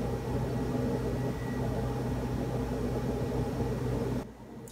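A refrigerator gives a steady low electrical hum with a faint tonal whine, running continuously, then drops off abruptly near the end, leaving near silence.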